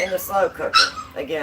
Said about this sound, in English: I have 7 puppies and you can hear them romping in the